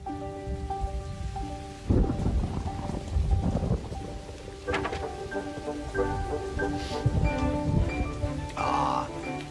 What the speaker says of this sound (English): Ah, nice drop of rain.